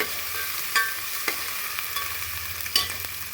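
Masala for moong dal khichdi sizzles in a pan as a spoon stirs it, with a steady frying hiss broken by several distinct scraping strokes, close and without talk.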